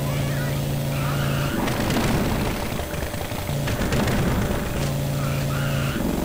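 A modded car engine in GTA San Andreas, using a GTA V sound pack, holds a steady tone, then roars loudly as it accelerates for about two seconds before settling back to a steady drone.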